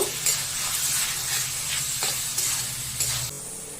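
Mushrooms fried in spices sizzle and hiss steadily as they are stirred, with several quick spoon scrapes across the pan, close and fairly loud.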